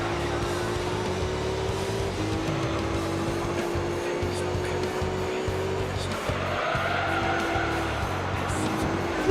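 Pagani Zonda racing in Gran Turismo 3, a steady engine drone with tire squeal and skidding running continuously throughout, the pitch shifting with gear changes.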